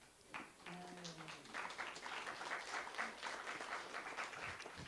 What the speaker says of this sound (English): And we do love applauses in this place, so please feel free to applaud.